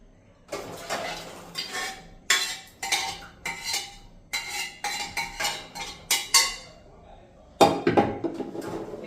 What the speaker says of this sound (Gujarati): હવે આપણે એને અલગથી તપેલીમાં કાઢી લેશું।